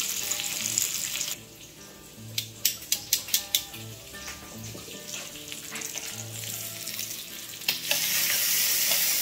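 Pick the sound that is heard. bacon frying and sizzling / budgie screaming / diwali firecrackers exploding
bacon frying and sizzling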